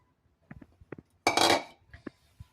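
Pork being stirred in a pan with a utensil for adobong pinatuyo: a few light metallic clinks, then a louder burst of scraping and sizzle about halfway through, followed by scattered taps, with no talking.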